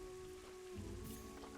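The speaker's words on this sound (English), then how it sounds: "it's raining, messing up everything" Rain falling in the zoo-building video game Planet Zoo, a soft, steady patter of drops on surfaces that stays faint and continuous.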